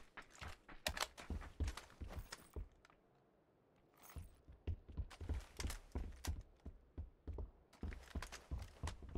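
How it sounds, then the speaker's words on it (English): Footsteps in PUBG: Battlegrounds on the Deston map, a quick run of close, crisp steps with a short pause partway through, then steady rhythmic steps again, heard alone with no talk. "The sound of the footsteps, though, is actually really good."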